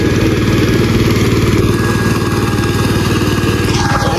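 A tractor engine runs at a steady, throbbing idle close by, its even mechanical drone carrying on alone with a slight shift in pitch near the end.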